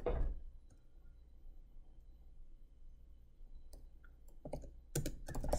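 An ad description typed on a computer keyboard: sparse, soft key clicks in a quiet room, building to a quick cluster of louder taps near the end.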